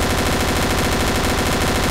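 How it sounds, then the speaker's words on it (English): A Tommy gun fires a continuous rapid burst in the Garry's Mod video game, loud and dense with evenly spaced shots throughout. "Tommy gun. Yeah. Okay, reload. Yeah, that's really loud."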